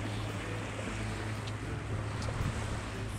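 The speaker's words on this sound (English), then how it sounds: "So we're motoring, burning diesel." A sailboat motors under its diesel engine, a steady low drone blending with wash and wind noise and continuing without a break.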